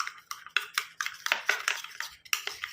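A spoon stirs a fenugreek and milk mixture in a bowl, making close, quick, rhythmic clinks and scrapes against the sides, about a dozen strokes in a few seconds, with no talking.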